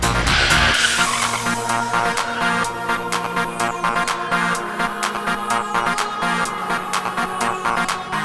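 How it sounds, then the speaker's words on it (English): A car brakes heavily from 30 miles an hour without ABS, its locked wheels skidding with a sustained tire squeal over the engine. "All of a sudden we're driving down the road 30 miles an hour and we brake heavily"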